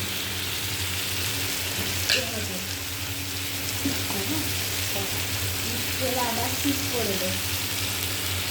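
Spices fry in a pan as chili powder goes in, with a continuous close sizzle and a few stirring clinks while someone talks over it.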